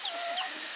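A hen in a barn lets out a single short, faint cluck, alone and without voices.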